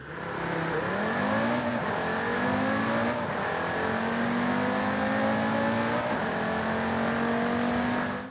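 A Cupra Formentor VZ5 engine in the racing game Forza Horizon 5 revs steadily and climbs through the rev range in several rising pulls, loud and continuous without talk.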